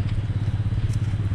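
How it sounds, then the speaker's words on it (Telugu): Husqvarna Vitpilen 250 motorcycle idling, its exhaust putting out a steady, throbbing low rumble with even pulses, close and fairly loud, with no talk over it. "మీరు ఒకసారి ఎగ్జాస్ట్ నోట్ అయితే వినండి"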